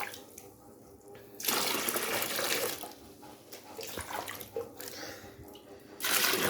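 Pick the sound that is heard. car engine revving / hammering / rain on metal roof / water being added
water being added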